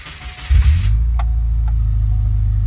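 A Subaru Impreza 2.5RS GC8 engine, freshly fitted with a new starter, cranks briefly and catches, then settles into a steady, loud idle with a couple of faint clicks over the running engine.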